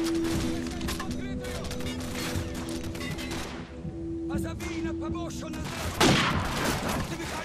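Gunfire in Call of Duty 4: Modern Warfare, repeated automatic bursts and single shots crackling over the battlefield, with a sharp louder blast near the end and a voice talking underneath.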